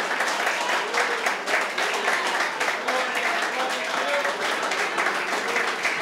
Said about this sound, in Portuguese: Palmas, exalte ao Senhor.